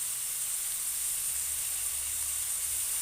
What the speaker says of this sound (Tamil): இப்போ சின்ன சின்னதாக பொடி பண்ண தக்காளியை சேர்த்துக்கிறேன்.